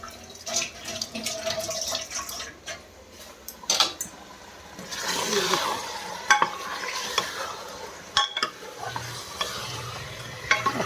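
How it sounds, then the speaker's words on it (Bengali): Meat being browned in a pot with potatoes and whole garlic cloves, a close sizzle under repeated stirring and scraping, with some splashing water sounds mixed in. "আলু দিয়ে আস্ত রসুন দিয়ে মাংসটা কষিয়ে নেই এবার"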